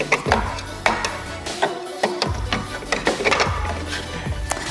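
A Rotimatic Plus roti maker is turned by hand, giving a series of sharp plastic clicks and knocks with low thuds in an irregular rhythm, close up.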